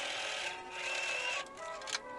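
A sewing machine stitches elastic onto the fabric of a dress sleeve, a steady close whirring hum that runs unbroken for a couple of seconds, with a brief dip and a small bump near the end.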